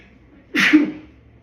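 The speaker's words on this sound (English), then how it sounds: "I gotta sneeze." One close, forceful sneeze with a quick intake before it, loud and abrupt, then fading into near silence.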